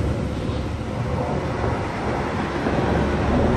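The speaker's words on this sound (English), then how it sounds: "The train is leaving." Train pulling out of Karl am Main station in winter, a continuous low rumble and rolling noise, steady and fairly loud throughout, with no voices.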